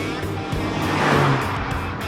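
A Mini Cooper convertible drives along a winding road, its engine droning steadily with faint exhaust crackle and road noise heard up close.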